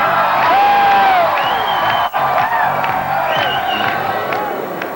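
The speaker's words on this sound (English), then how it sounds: "There was thunderous applause and cheering as the congressman entered the room" A room full of supporters cheers and applauds as a congressman enters his election headquarters, with loud sustained crowd noise, whoops and shouts layered over clapping, one brief dropout partway through.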